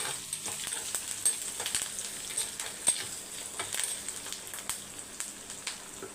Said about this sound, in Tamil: பச்சை மிளகாய் வந்து எண்ணெயில் அப்படியே வெடியணும்